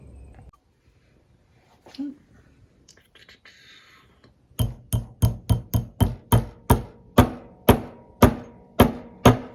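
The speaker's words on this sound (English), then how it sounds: "give it a whack with a hammer and flatten it off" About a dozen sharp metallic hammer blows flatten a metal shaft from a Toyota/Lexus CT200h A/C blower fan, in a steady rhythm, close and loud, after a few seconds of quiet shuffling and faint whispering.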